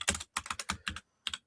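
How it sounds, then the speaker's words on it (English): Rapid clattering keystrokes on a computer keyboard come in short close bursts with brief pauses between them, and no voices. "Sorry for my enormous typing again."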